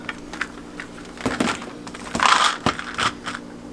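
Vitamin pills crushed by hand without a pill crusher, giving a few short crunching, cracking bursts with gritty crackle around the middle, close and fairly quiet.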